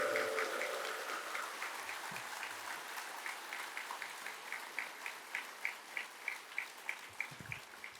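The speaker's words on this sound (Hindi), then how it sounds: "एक बार सभी एक दूसरे के उत्साहवर्धन में तालियों की गड़गड़ाहट कर रहे हैं" Applause from a large audience at a Vihangam Yoga Sansthan anniversary gathering, a broad rain-like wash of clapping that shifts into rhythmic, evenly spaced claps in unison.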